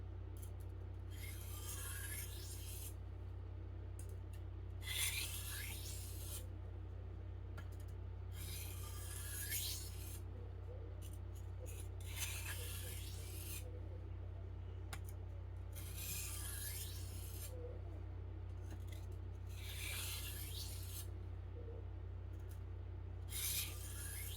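A Farberware chef knife is drawn lightly across the fine side of an Arkansas sharpening stone, giving a series of soft, evenly spaced rasping strokes, about every two to three seconds, quiet and alone.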